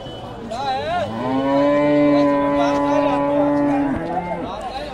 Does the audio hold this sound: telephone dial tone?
no